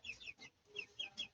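Dumpo strain chicken, about a month old, clucking in a quick series of soft, close, chirpy calls.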